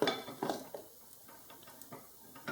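Metal tongs clink softly against a pot while dipping butter pecan toffee pieces into melted chocolate; faint, scattered taps and scrapes in a quiet kitchen.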